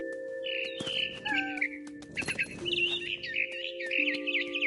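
Bird chirps and tweets of a mother bird in the game What Remains of Edith Finch, bright repeated calls over a steady ambient game soundtrack hum, with a busier burst midway.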